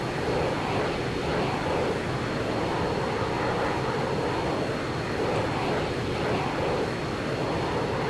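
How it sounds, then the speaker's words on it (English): A VTOL aircraft in a video game lifts off vertically with a dense, steady engine roar and whooshing thrust wash, loud and continuous without a voice. "we're gonna take off VTOL"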